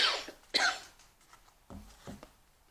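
Two people coughing indoors: a couple of harsh, close coughs at the start, then a softer, lower pair of coughs a moment later, with quiet room noise between.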